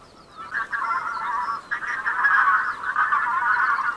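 A flock of geese honks continuously overhead during a goose-hunting season opener, many overlapping calls forming a steady, fairly loud chorus with no talk.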